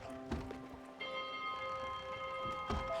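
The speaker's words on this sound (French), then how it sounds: "Appuie sur Z pour activer et désactiver la cloche." A ship's bell in the video game Spiritfarer rings out in a few clear metallic strikes, the tones sustaining and layered with a steady ringing drone, played alone with no talk.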